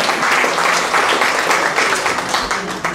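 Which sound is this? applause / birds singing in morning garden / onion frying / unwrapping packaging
applause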